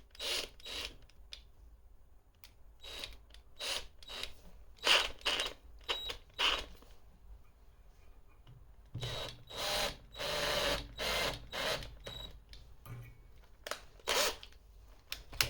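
A power drill twists stainless steel wire around a nail in repeated short whirring bursts, spaced irregularly with quiet gaps, and a denser run of spins toward the end; close and moderately loud.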